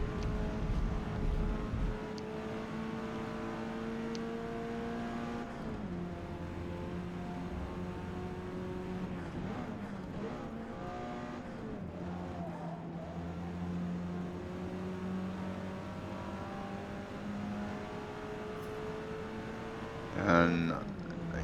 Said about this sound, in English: And I get around the track pretty good in this Mitsubishi